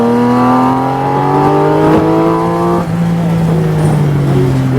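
A supercar engine on a race track at Charlotte Motor Speedway, with a loud steady rising drone under a driving instructor's talk, then a downshift and rolling back onto power.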